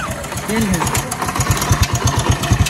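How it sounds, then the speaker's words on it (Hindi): A motorcycle engine idles close by with a steady, rapid low thumping throughout, while people talk over it. "ये आ गया हमारा बाइक, चलते हैं"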